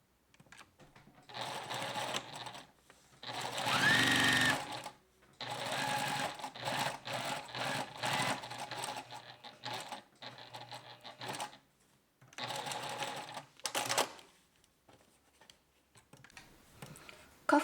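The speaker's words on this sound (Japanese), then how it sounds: "次に袖下あきのあき止まりまでを縫っていきます。" A sewing machine runs in several bursts of stitching along a sleeve cuff opening, pausing between runs, with occasional soft clicks and faint background speech.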